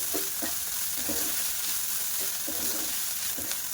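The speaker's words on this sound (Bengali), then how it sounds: "দিয়ে বেশ ভালো করে নাড়াচাড়া করে নেব।" Chicken filling mixed with fresh cream is stirred in a pan, giving a steady low sizzle with soft spatula scrapes at intervals, close and moderately quiet, no voices.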